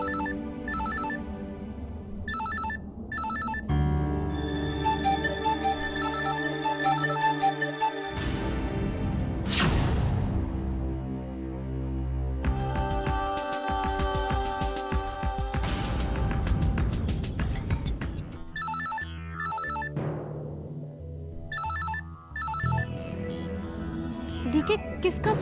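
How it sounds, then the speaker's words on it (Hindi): A telephone rings repeatedly in a Hindi TV serial scene, its electronic ringtone chiming in bursts over dramatic background music and sound effects. "डीके किसका फोन है?"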